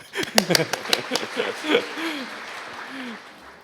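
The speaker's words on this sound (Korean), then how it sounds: "박수는 이럴 때 치는 겁니다." Audience applause at a Visual Studio 2012 parallel programming talk, a burst of scattered claps near the start that thins out, with a voice speaking over the fading clapping.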